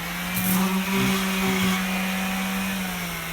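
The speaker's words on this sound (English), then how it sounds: "I'm gonna use my orbital sander and sand it up around the edges" An orbital sander rounds over the wooden edges of a wine bottle basket, giving a steady, loud, close motor whine with a constant hum and a rough sanding texture throughout.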